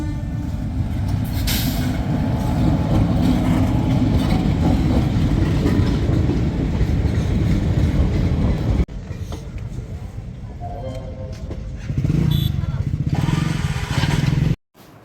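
Trains rumbling through a railway crossing near Konark during a fair, a loud continuous rail roar lasting most of the clip, then briefly dropping before another loud passing burst, with faint voices in the background.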